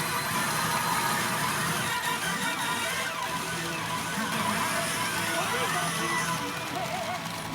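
A pachinko machine in a Japanese parlor pays out non-stop, giving a loud, dense, continuous wash of metallic ball clatter and electronic jingles with no pauses throughout.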